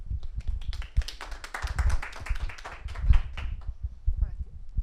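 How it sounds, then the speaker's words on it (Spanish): Scattered clapping from a small group, close and uneven, with voices talking underneath. "Te están aplaudiendo ahí también."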